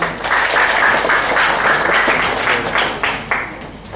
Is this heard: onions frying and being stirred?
no